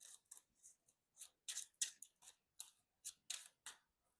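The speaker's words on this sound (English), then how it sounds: "shuffle up again" A deck of game cards from the Marvel Champions card game is shuffled, giving quiet crisp riffling bursts in short irregular clusters, close and soft, with no talk over it.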